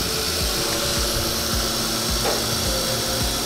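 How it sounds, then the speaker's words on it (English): A screen-printing vacuum table hums and roars steadily and loudly, with a continuous broadband whoosh and a low rhythmic pulsing underneath. "and then turn on the vacuum"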